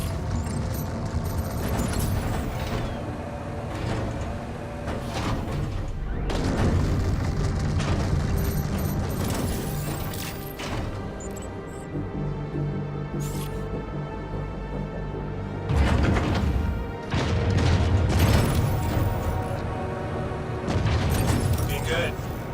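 Ship turret in Star Citizen firing simulated rounds: repeated booming bursts of weapon fire in rapid clusters across a busy game soundscape, with heavier blasts near the end and a voice talking over parts of it.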